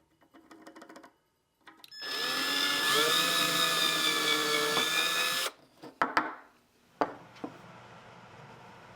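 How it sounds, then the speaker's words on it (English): A power drill bores pilot holes in the wood of a handmade cajon box drum: one close, loud whirring run lasting a few seconds, followed by knocks and clatter as the tool and wood are handled. "I'll mark where I want the snares to attach and drill pilot holes."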